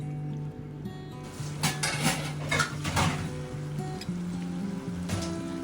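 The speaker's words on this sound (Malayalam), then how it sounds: "അതിനുശേഷം നല്ലതുപോലെ ഒന്ന് ഇളക്കി യോജിപ്പിച്ച് കൊടുക്കുക." Chilli chicken gravy being stirred in a pan, with a spoon clattering and scraping against the metal in irregular bursts over a low background hum.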